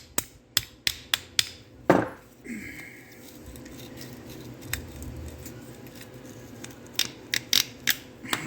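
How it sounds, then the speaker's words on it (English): Sharp metallic taps from a hammer driving a bolt out of a shifter part on a 1976 Dodge D100 truck during an 833 overdrive swap, four quick strikes, a louder hit, then a pause and three more taps. "We should be able to tap this bolt out."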